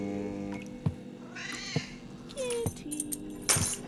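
A cat meows indoors amid sharp intermittent clicks and jangling, faint and close, with a voice briefly audible.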